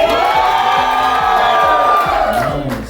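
A loud crowd of guests at a North Indian wedding cheers and whoops together, sustained and enthusiastic, with shouts rising over the roar before it begins to ease.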